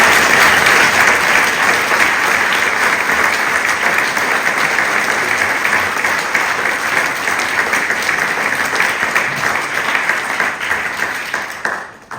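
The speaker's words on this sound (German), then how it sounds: "Ich glaube, das ist ein grosser Applaus wert." Warm, sustained applause from a cabaret audience fills the room evenly for about twelve seconds, steady and dense before tapering off abruptly at the end.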